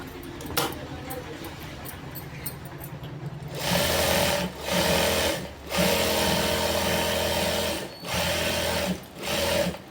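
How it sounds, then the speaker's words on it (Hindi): A sewing machine runs in close, loud bursts of rapid mechanical stitching, stopping and restarting several times while double-stitching the seams of sarara pants, after a quieter stretch of handling noise at the start. "हम इस पर डबल सिलाई मार लेंगे।"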